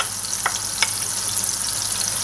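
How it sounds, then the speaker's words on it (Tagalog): Garlic sautés in melted butter in a pan, giving a constant close hiss of frying with a couple of brief crackles and stirring sounds, with no talking. "Tunawin lang natin yung butter and then igisa na natin yung ating bawang"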